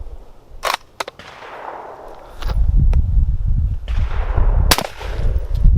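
A few sharp, close reports from a Mossberg 183 KE .410 bolt-action shotgun fired at a range, followed by a low rumbling tail, with no voices.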